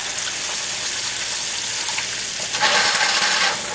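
Cold water, about 250 ml, poured into a hot pan of cream curry sauce mixture after brief heating, bursting into a loud sizzling hiss over steady frying noise, with no talk.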